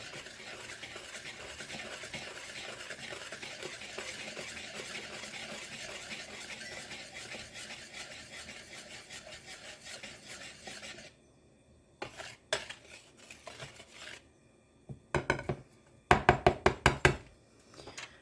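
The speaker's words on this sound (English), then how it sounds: "you want to whisk these together" A whisk beats dry oatmeal cookie ingredients in a bowl with a steady, busy rasping scrape for about eleven seconds. Scattered knocks and clinks of utensils against the bowl follow, growing louder toward the end.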